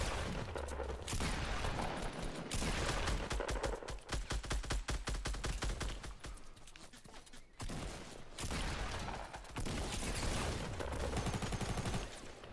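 Dense, sustained gunfire in the battle game Fortnite rattles in rapid bursts of shots, loud and close, with a brief lull midway before the volleys resume.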